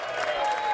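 A festival crowd in a fringe field applauds a folk band, a short burst of dense clapping at moderate loudness with no break.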